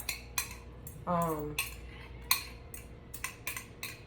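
A metal utensil clinks and scrapes against a pan while stirring a spinach and provolone steak filling, producing sharp, irregular taps close by, with one brief squeaking scrape partway through.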